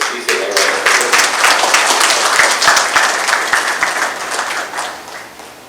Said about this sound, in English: So let's please give her a round of applause.